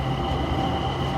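Steady low rumble and hiss from inside a moving train, an even, continuous roar with a faint tonal whine, heard alone and close with no voices.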